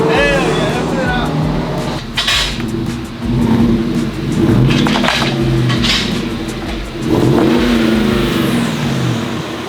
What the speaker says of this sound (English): This is exactly how I want my GMC to sound.